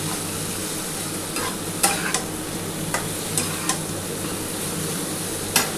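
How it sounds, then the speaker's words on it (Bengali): Pointed gourd sautéing in a pan with salt, turmeric and chili powder for potol posto, a steady close sizzle punctuated by several sharp spatula scrapes and taps against the pan, no talking. "একটু ভালোভাবে পটলটার সাথে আগে প্রথমে কষিয়ে নিচ্ছি পটল পোস্তটা"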